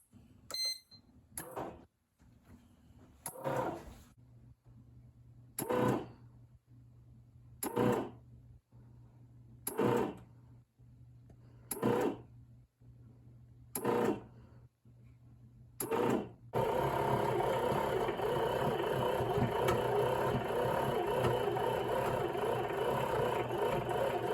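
A bread machine kneads dough after its start button is pressed, giving a rhythmic series of mechanical whirring pulses with short pauses, then a steady continuous motor drone, quiet and close, with no talk.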